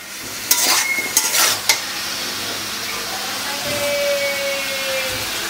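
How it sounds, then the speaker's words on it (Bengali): Desi chicken with turmeric being stirred and sautéed in a pan, a few sharp scraping clatters at first, then a continuous sizzle with no talking. "দেখুন খুব সুন্দর এখানে কষানো হচ্ছে"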